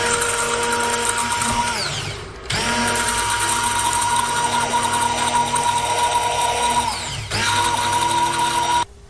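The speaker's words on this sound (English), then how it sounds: "Next we'll use a blender to blend this into." A blender whirs steadily while mixing a skincare formulation of water and oil phases, running loud and continuous, dipping briefly around two seconds in, then cutting off near the end.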